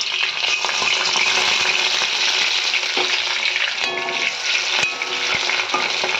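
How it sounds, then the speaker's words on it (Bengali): Chopped garlic frying in a generous amount of hot oil for a Bengali fish vorta, giving a loud, steady, continuous sizzle with a few sharp clicks and spatters near the end, with no voices. "তেল গরম হওয়ার পরে রসুন কুচি দিয়ে দিচ্ছি।"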